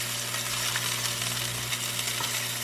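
Meat browns in a hot pan with a steady, close frying sizzle and faint crackle, continuous and even with no voices.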